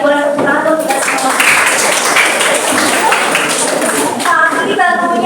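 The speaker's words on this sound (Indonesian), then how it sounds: "boleh tepuk tangan untuk kita semua" Classmates in a classroom clap together in a sustained burst of applause lasting several seconds, mixed with scattered voices and chatter.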